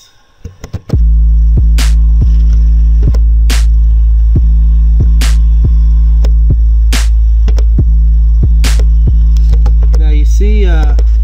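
Deep trap 808 bass from FL Studio layered over a programmed drum pattern, a loud sustained low boom pulsing steadily beneath regular sharp hits for about ten seconds, ending with a brief burst of higher texture.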